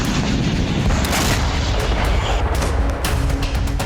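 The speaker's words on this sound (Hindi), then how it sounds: "जब इजरायली एयरफोर्स ने अल शिजाया में बम गिराए" Dense, continuous heavy booming and rumbling from an Israeli air force bombing of Shujaiya, Gaza, like repeated explosions in quick succession, loud and unrelenting with no voices.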